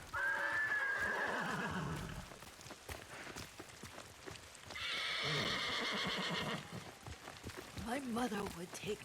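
A horse in the Ghost of Tsushima video game whinnies loudly at the start, with hoofbeats and a second neigh later over outdoor ambience.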